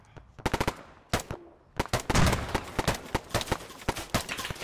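An ambush brings rapid AR rifle fire. Short bursts and single cracks go off close and loud at an irregular rhythm, with brief gaps between volleys.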